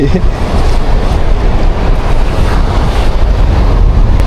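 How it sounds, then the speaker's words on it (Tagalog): Strong wind at sea roars loudly against the microphone in a constant, buffeting rush, with the wash of open water and waves beneath it, on a fishing trip. "Hangin. Mahangin, opo."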